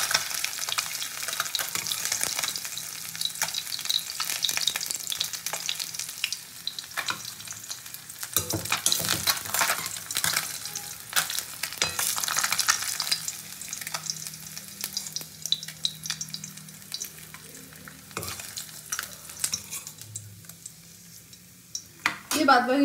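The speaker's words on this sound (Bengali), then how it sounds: "জাস্ট একটু এপিট ওপিট করে মাছটাকে ভেজে নেবো আমি।" Kajli fish frying in a pan, a soft, steady sizzle with intermittent stirring and turning noises, fairly quiet.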